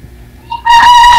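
A rooster crows loudly and close, a single strident call that starts abruptly and holds steady.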